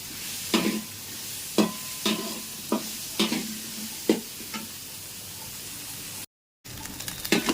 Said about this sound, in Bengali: এটা অল্প আছে আস্তে আস্তে ভাজা করে নেবে